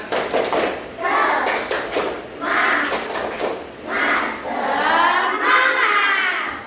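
Children in a classroom chant the 'tepuk semangat' clapping song together, their voices rising in rhythmic bursts over sharp, regular claps.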